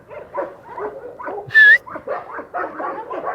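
A dog makes short, close yips and whimpering noises in a quick irregular series, and a sharp high squeal stands out partway through.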